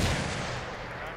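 A tank's ammo rack detonating in World of Tanks, a loud close boom that rolls into a dense, sustained rumbling blast lasting about a second, followed by a sharp new hit at the end, with no talking.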